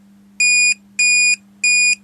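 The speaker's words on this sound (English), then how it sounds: "I went through a load of buzzers I had actually, until I found one that I like the sound of" A component analyzer's buzzer sounds as its test probes touch: three identical, evenly spaced electronic beeps, clear and moderately loud over a faint steady hum.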